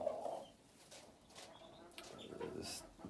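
Cochin bantam hens and chicks cluck and peep softly in a coop, faint and scattered against a quiet background hiss.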